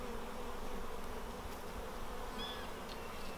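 Honeybees buzz in a steady, faint, continuous hum while a hive is opened for a colony inspection, with no talk over it.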